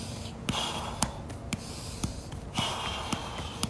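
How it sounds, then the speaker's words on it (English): Sharp breaths and snort-like exhales from a player juggling a soccer ball on the thighs, with a steady rhythm of soft thumps roughly every half second, close and fairly quiet. "Breathing."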